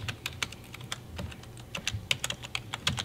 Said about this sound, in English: So I will type in Magnifier.